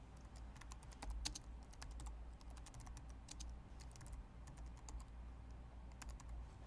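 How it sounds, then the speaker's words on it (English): Steady typing on a computer keyboard, with quiet, close key clicks tapping in quick irregular bursts over a faint background hum, and no voices. "go ahead and type in the words Earth Pictures Presents"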